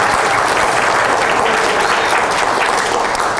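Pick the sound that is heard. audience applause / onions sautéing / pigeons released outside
audience applause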